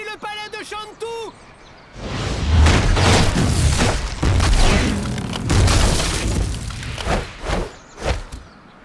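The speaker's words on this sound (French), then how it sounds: "Les canons! Ils tirent depuis le palais de Shantou!" Cannons in the Kung Fu Panda 2 video game fire from a palace in a run of heavy, rumbling booms, loud and close, after a brief stretch of animated speech.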